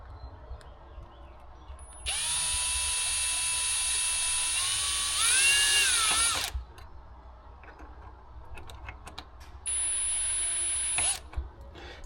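Cordless power drill driving a hose clamp tight on an Injen air intake pipe on a 2015-or-later Ford F150, two close, loud whirring bursts, the first long with a rising then falling pitch, the second shorter, with quiet workshop clatter between.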